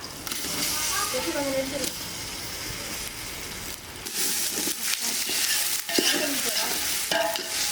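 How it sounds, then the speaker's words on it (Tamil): Ginger garlic paste fries in a pan for duck curry, giving a constant close sizzle and hiss with scraping stirs throughout, while a voice speaks faintly in the background. "இஞ்சி பூண்டு பேஸ்ட் போட்டுக்கலாம்"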